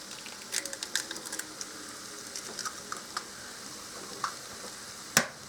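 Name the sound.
eggs cracked onto skillet hash, frying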